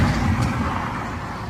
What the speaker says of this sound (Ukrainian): Зараз машина обжене.